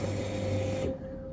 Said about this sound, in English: I have to hear the fuel pumps.